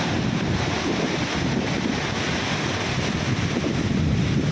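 Sea waves at Puri beach roar in a continuous wash of surf, heavily buffeted by wind on the microphone, loud and unbroken.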